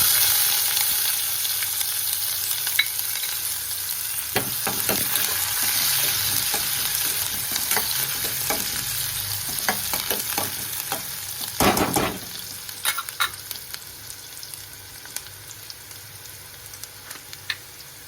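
Chopped onion and garlic frying in a pan, a continuous close sizzle broken by repeated stirring scrapes and spoon knocks, with a brief louder clatter near the middle.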